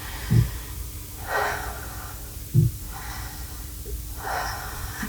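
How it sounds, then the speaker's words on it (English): Slow, deep breathing as part of a relaxation exercise, with a few audible inhales and exhales spaced a couple of seconds apart, close and fairly loud, with no talking. "take a few really nice deep breaths"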